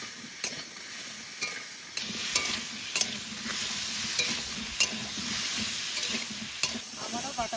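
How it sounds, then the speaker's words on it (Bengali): Cauliflower frying in oil left over from frying river rohu fish in a village kitchen, with a steady close sizzle broken by periodic sharp scrapes and clatters of stirring; no talking. "মাছ ভাজা তেলের মধ্যে ফুলকপি দিয়ে দেবো"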